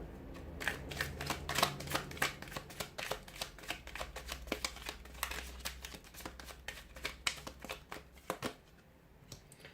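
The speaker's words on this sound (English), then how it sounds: "give the cards a shuffle" A tarot deck being riffled and shuffled repeatedly, crisp rapid flutters in quick bursts, close up with no talking.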